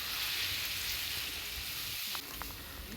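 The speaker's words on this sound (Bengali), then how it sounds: "এখন বেশ ভালোভাবে এটাকে নাড়াচাড়া করে নেব এবং বেশ কিছুক্ষণ কষাবো" Chicken keema with cumin powder being stirred and sautéed in a pan: a soft, even sizzle that drops a little near the end, with a couple of faint scrapes of the spoon.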